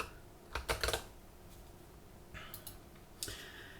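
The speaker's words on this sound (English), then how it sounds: "I'm going to do this again, except this time I'm going to type security." Fingers tap a computer keyboard in a few short, quick bursts of close, crisp keystrokes separated by quiet gaps.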